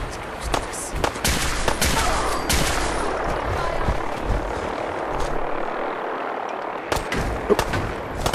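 Gunfire in Fallout 4, a dense, loud fusillade of rapid shots and sharp cracks over a steady rumbling roar, close and continuous, with a brief lull before a final burst of shots.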